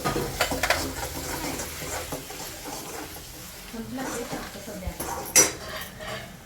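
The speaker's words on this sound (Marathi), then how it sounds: "काळं वाटण तेलामध्ये परतवण्याचं काम चालू आहे" Black masala paste sautés in oil with a steady sizzle, while a metal spoon scrapes and clinks against the pan throughout, and a voice talks faintly in the background.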